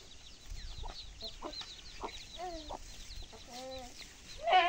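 A chicken clucks close by in a run of short, separate clucks and throaty warbles, with faint chirping from other birds and soft rustling in the background, and the calls grow louder at the end.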